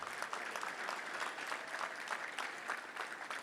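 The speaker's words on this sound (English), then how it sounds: "Let's give them a round of applause." A room full of people at a football touchdown club luncheon applaud steadily, a dense close wash of clapping that holds at even loudness throughout, with faint crowd murmur beneath.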